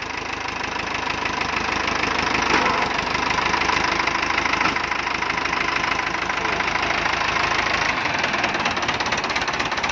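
A Ford 6600 diesel tractor engine idles steadily up close, with a loud, rough knocking rumble that stays constant throughout.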